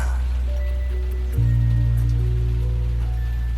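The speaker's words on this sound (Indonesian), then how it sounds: "hujan ini tiba-tiba turun" Steady rain falling as a radio drama sound effect: a dense, continuous wash of drops under low droning tones, with the level stepping up slightly partway through.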